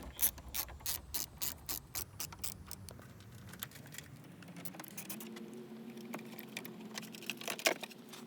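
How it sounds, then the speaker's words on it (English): A hand ratchet with a 10 mm long socket clicks rapidly and evenly while loosening car battery terminal bolts, close and clear, then the clicks slow and scatter toward the end. "So I've grabbed my 10 millimeter long socket to take these bolts off."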